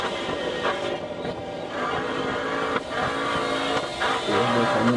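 A racing car engine roars steadily and loudly throughout the AUTOGRID mobile racing game, a dense continuous drone with gear-shift dips and no talking.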